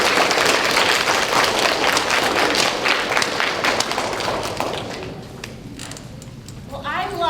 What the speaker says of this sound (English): let's give moms and dads, grandmas and grandpas a big round of applause